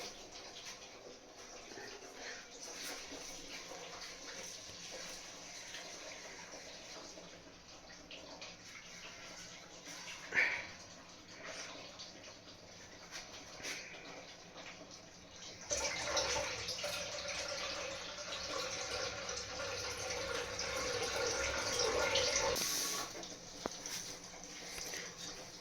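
Rice being washed in water at home before cooking, with water sloshing and swirling, then a louder, steadier pour as the rinse water is tipped out over the last several seconds. No voices.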